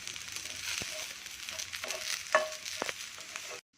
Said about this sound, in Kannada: ಸ್ವಲ್ಪ ಎಣ್ಣೆ ಹಾಕ್ಕೊಂಡು ಚೆನ್ನಾಗಿ ಬಾಡಿಸ್ಕೊತೀನಿ ಇದನ್ನು ರೋಸ್ಟ್ ಮಾಡ್ಕೋಬೇಕು